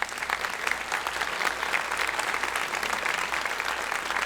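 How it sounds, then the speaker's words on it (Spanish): A church congregation applauds during a Sunday sermon, a dense, steady wash of many hands clapping that holds at an even level throughout with no voices over it. "Denle un aplauso al Señor."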